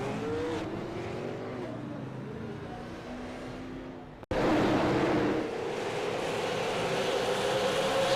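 Race car crash on the front stretch of New Smyrna Speedway in the iRacing sim: engines drone and tires squeal, then a sudden cut is followed by a loud, dense roar of crunching and scraping noise that runs to the end.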